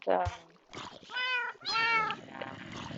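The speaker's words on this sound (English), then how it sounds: "my immediate goal was to get lots of cats, which I did" Cats meowing in the Minecraft survival game: several clear, close meows, drawn out and rising, follow one another over soft background sound, with a person talking between them.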